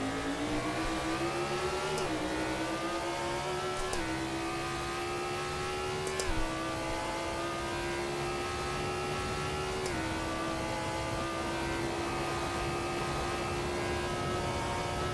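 A race car engine in a sim racing game (LMP2 or GTE class) drones loudly and steadily, rising in pitch through repeated upshifts with brief dips between gears.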